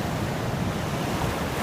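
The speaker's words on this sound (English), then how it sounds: "but listen to the waves." Ocean waves breaking on a beach: a steady, loud broadband wash of surf with some wind rumble, close and continuous, with no voices.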